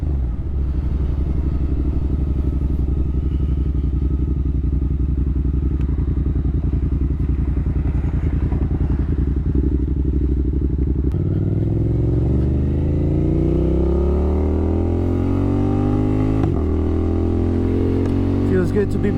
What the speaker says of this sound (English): Feels good to be back on two wheels